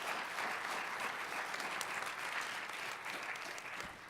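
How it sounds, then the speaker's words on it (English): A steady, dense round of audience applause for a discussion panel, even and sustained throughout at moderate level with no talk over it. "can we give our panelists a round of applause?"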